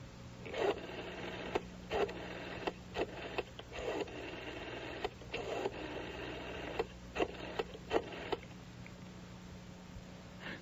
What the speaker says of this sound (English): When, according to her, she was dialing the direct line to Bianca Voss's office